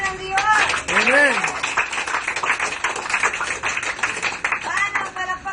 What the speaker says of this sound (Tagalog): Palakpakan ng Diyos.